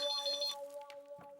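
A telephone ringtone chirps steadily in a Hindi sitcom household scene, a repeating electronic tone that plays alone and fairly loud, with a faint thump near the end.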